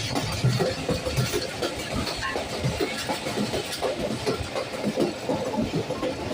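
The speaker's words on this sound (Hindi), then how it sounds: "क्या खूबसूरत ट्रैक साउंड आ रहा है।" The Awam Express, pulled by a Chinese-built engine, rolls along the track in fog and rain, its wheels giving a steady rumbling clatter with dense clickety-clack, loud and continuous with no talk.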